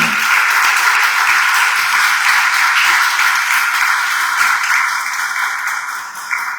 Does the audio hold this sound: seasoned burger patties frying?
no